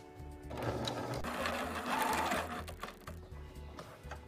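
A sewing machine stitches along the side of a cloth mask, a rapid mechanical whir running steadily for a few seconds, close and fairly quiet.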